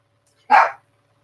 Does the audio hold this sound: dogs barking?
yes